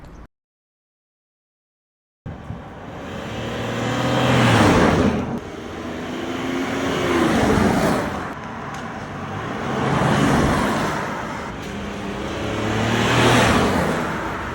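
A sports car drives along after a brief silence, its engine and road noise swelling and fading in repeated loud waves as it accelerates and shifts.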